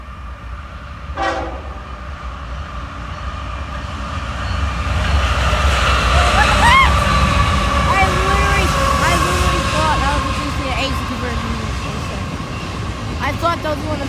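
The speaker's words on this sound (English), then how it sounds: "Yep, that's a train." A Norfolk Southern intermodal freight train rolls past with a steady rumble and rail noise, its horn sounding in short blasts, starting with a brief early blast and then several more toots as the train goes by.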